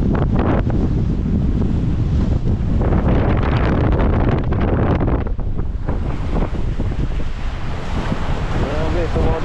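Strong wind buffets the microphone in heavy gusts at sea in rough water, roaring over crashing surf and water, with no clear speech.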